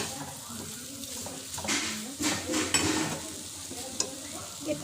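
A spoon stirring fried potatoes and duck eggs in a sizzling pan, with repeated scraping strokes over a steady frying hiss and a few sharp clinks.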